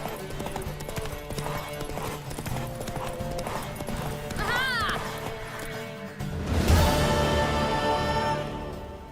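Rapid, rhythmic hoofbeats of a galloping horse in The Witcher 3: Wild Hunt, close and continuous, with a whinny midway and a loud crash near the end.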